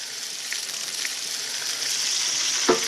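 Pork tenderloin sears in a hot pan with a steady, close hiss of frying, a few small pops, and a sharp clatter near the end; no one speaks.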